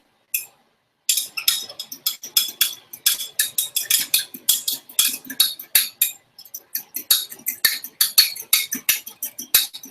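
A fork beats rapidly against the side of a bowl in place of a whisk, a quick series of bright clinking taps in an uneven rhythm, close and loud, with no talk.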